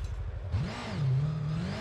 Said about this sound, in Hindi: हम लोग जल्दी से अपनी इस बाइक को भगाते हैं